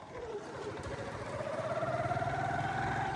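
A motorcycle loaded with cement runs at a steady idle, its engine hum holding a constant pitch that grows slightly louder and rougher toward the end.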